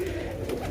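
Pigeons cooing in a short, low, steady murmur, close by, with no other sound standing out.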